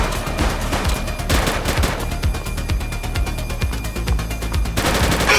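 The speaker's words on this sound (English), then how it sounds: "Shots fired!" Rapid automatic gunfire in the police video game The Precinct, a loud, sustained volley of closely spaced shots over several seconds with dense reverberant crackle, no voices.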